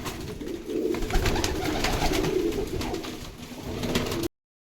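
Several pigeons, including large hens, coo inside their coop in a steady, overlapping low murmur, moderately close over a noisy background, before the sound cuts off abruptly near the end.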